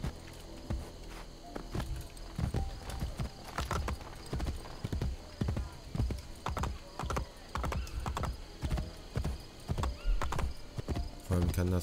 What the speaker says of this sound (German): Vor allem kann das Pferd auch nicht schneller reiten.